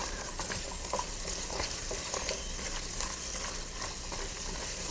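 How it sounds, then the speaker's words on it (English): Steady, dense sizzling of cashews and raisins frying in hot ghee, a continuous crackling hiss with faint stirring, no voices. "it's better to fry these cashews and raisins."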